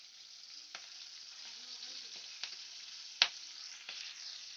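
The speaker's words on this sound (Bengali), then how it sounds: "এবারে আমি ফোড়নটা ভেজে নেব" Whole spices sizzle in hot oil as a tempering for a Bengali katla fish curry with beans, potato, eggplant and lentil wadi, a steady close crackle broken by a few sharp pops and utensil clinks.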